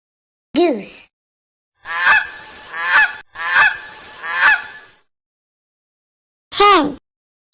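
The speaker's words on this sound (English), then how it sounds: "Goose." A goose honks loudly and close in a run of four harsh calls, with a voice speaking briefly before and after.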